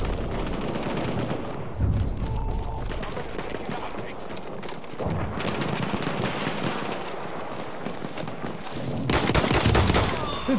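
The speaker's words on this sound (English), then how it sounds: "Machine gun." Machine gun and rifle fire in a Battlefield 1 multiplayer battle, with rapid bursts and scattered shots over a dense background of battlefield noise, louder toward the end.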